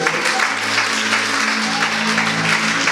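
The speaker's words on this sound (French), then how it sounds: "Est-ce qu'on peut acclamer le Seigneur pour cela?" A church congregation at a French-language sermon applauds and cheers for the Lord: a dense, loud, sustained wash of clapping fills the room throughout, with raised voices mixed in.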